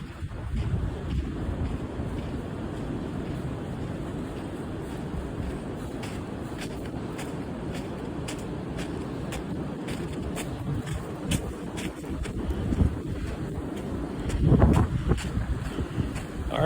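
Gusting wind sweeps over the winter dunes at Muskegon State Park, a steady buffeting roar rushing against the microphone and swelling louder near the end, with no voices.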